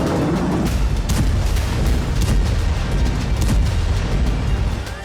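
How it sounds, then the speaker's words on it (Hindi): A bomb blast strikes a crowded shelter area in Khan Younis, Gaza, heard as a dense, sustained roar of booming rumble and crackling debris that stays loud throughout and eases slightly at the end. "सुबह सुबह यहां पर बम का धमाका हो गया"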